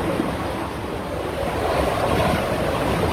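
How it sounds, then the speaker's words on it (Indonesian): Strong wind gusting head-on through a cave tunnel near an irrigation channel, a steady, loud, broadband roar buffeting the microphone throughout with no pauses and no voices. "Saya mendapatkan terpaan angin yang cukup keras ya dari depan"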